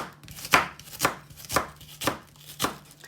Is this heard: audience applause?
no